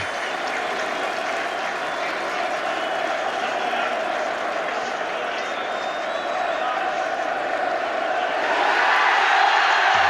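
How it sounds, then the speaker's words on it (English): A huge stadium crowd roars and cheers without pause at the 1995 Rugby World Cup final between South Africa and New Zealand, a dense, sustained wall of applause and shouting that swells louder near the end. "Nelson Mandela is cheering along with the whole of the stadium"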